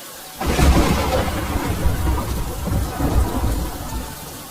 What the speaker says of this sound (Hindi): गड़गड़ाहट शुरू हो गई थी, मानो जोर की बारिश आज गिरने वाली है